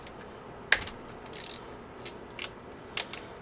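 Wrench clicks and metallic taps while loosening a fuel injector line on a Honda D16 engine, a handful of short, sharp ratcheting and clinking sounds spaced irregularly, close and fairly quiet.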